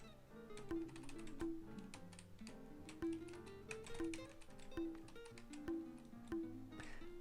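Computer keyboard keys clatter in quick, irregular bursts during a game of Tetris, faint beneath steady game music with repeating tones.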